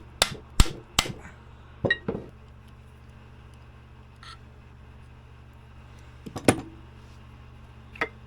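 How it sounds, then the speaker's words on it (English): An impact driver in hammer mode knocks at the stator of a vintage Polaris XLT 600 triple snowmobile engine: several sharp metallic bursts, a cluster early on, then isolated hits later, with quiet gaps between. "A little hammer action, and we'll have that stator right off."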